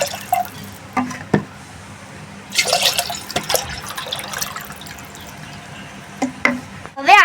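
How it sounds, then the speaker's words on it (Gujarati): Cold water, about a litre, poured into a cooking pot for pani puri, with splashes and drips in short bursts between quieter moments, close by and fairly loud. "તપેલી લઈશું, એમાં 1 લીટર ઠંડુ પાણી ઉમેરીશું।"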